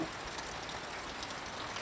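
Heavy rain falls outside a house within view of a hill, a steady, soft, continuous patter and hiss heard from a distance with no voices.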